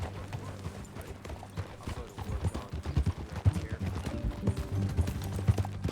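Horse hooves clip-clop at a steady walking rhythm in Red Dead Redemption 2, close and moderately loud over a low ambient bed, with characters talking over the hoofbeats.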